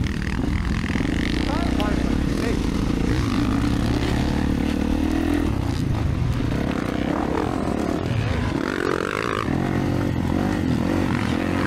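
A 2024 Kawasaki KX450 motocross bike rides a wet, slippery, muddy track in a 50-plus race, its engine droning steadily and loud throughout, with other bikes and wind noise mixed in.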